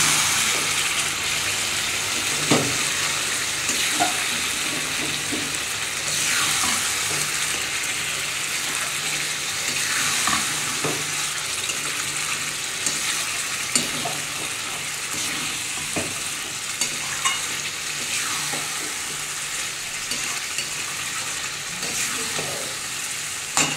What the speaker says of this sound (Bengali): এটা ভালো করে এবার কষাতে হবে